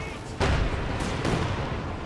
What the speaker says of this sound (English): just sends in a bunch of Katushkas to come in and blow it up